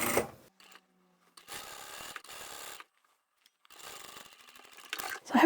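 A sewing machine stitches a fabric-and-vinyl handbag lining closed in quiet, close bursts of rapid mechanical whirring, each run lasting about a second, separated by brief pauses.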